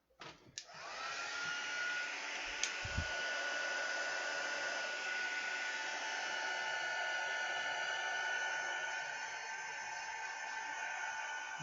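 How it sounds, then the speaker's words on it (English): A heat gun blows hot air for a paper stamping craft, switching on with a click and then holding a loud, steady whooshing roar throughout, with a brief knock partway in. "bear with while I do the heat gun then."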